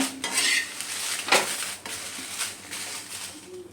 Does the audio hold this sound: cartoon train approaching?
no